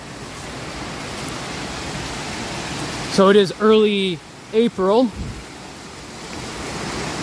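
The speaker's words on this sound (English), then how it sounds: "the waterfall is going quite nicely on this day" Buttermilk Falls pours down a brook off Peekamoose Road in the Catskills in early spring, a constant broadband rush of water. A person talks briefly in the middle over the steady roar.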